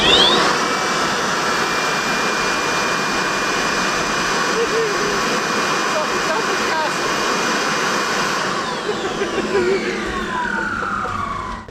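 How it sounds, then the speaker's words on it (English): A blower runs steadily inside a tent, giving a loud, continuous broadband roar that holds unbroken for the whole span with a faint whine near the end. "you're probably not going to take a blower and stick it into your tent to keep you cool during the night"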